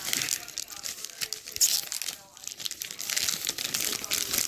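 Plastic packaging wrapper torn open by hand while unboxing a computer part with a heat sink, giving continuous close crinkling and tearing under intermittent talk.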